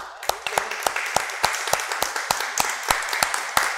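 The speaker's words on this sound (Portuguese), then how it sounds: "vamos aplaudir Jesus, irmão?" A church congregation claps during a seminar service, sharp, evenly spaced hand claps in a steady rhythm, fairly close and moderately loud, with a few voices underneath.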